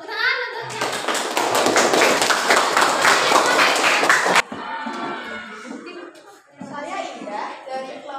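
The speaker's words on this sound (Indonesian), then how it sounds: "Tepuk tangan untuknya." A classroom of students applauds a classmate during a practice lesson, a dense, loud burst of clapping lasting about four seconds, then dropping away abruptly into quieter talk and shuffling.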